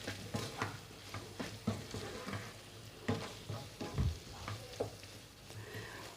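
Potatoes frying in a pan are stirred, a steady sizzle under repeated scraping and clinking strokes of the utensil at an uneven rhythm, close and moderately loud with no talk.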